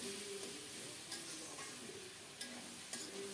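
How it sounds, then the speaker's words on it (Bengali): Cabbage curry with potato and lentil dumplings stirred in a pan with the lid off, a soft continuous sizzle under faint scraping and a few light utensil taps. "5-6 মিনিট রান্না করার পর ঢাকা উঠিয়ে ভালো করে নেড়েচেড়ে দিচ্ছি।"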